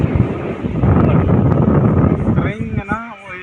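Wind buffets the microphone with a steady, loud roar outdoors on a family day trip near water, and a person talks over it.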